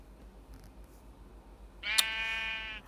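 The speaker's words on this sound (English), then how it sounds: "Worked so hard collecting those sheep, breeding them." A single video game sheep bleats once, loud and close, in the final second after quiet background hum.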